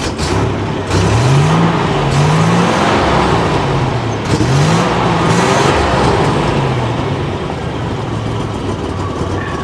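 A 1987 Buick Grand National engine revs under light throttle, a loud steady drone with a few rising and falling pitch sweeps as the throttle is blipped, close by and without talk.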